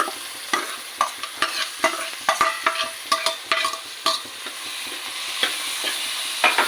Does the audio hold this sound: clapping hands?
no